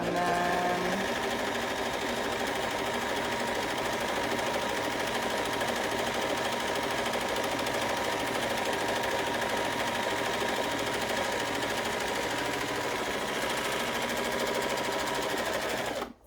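A serger sewing machine stitches along the edge of a small fabric bag, a loud, continuous, fast mechanical whir that holds steady throughout and stops abruptly at the end.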